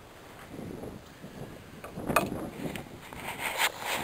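A car radiator cap twisted back onto the filler neck under the hood, making faint plastic clicks and a ratcheting scrape, with a couple of sharper snaps near the end.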